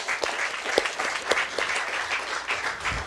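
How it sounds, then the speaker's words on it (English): Audience at a housing presentation ceremony breaks into sustained applause, a dense crowd of hands clapping close and loud with a few sharper accents and no voices on top. "Let's give him again a round of applause"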